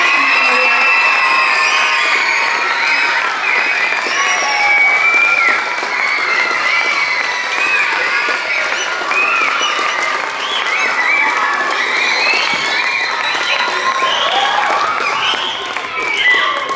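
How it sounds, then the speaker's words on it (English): Audience at a school Christmas pageant applauding and cheering loudly, a sustained roar of clapping mixed with shouts and whoops from children and adults, continuous and close. "can we have one more round of applause for our kindergarten first class?"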